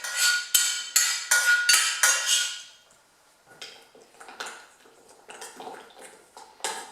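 A spoon stirs hot cream into chocolate to melt it for a dark chocolate coconut dessert, giving rapid, bright clinks against the bowl, then a pause and softer, irregular scraping taps, close and clear with no talking.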